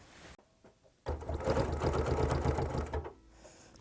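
A sewing machine quilts a Lemoyne Star block along straight lines guided by a ruler. One close, steady run of fast stitching lasts about two seconds, then stops, and only a quiet hum remains.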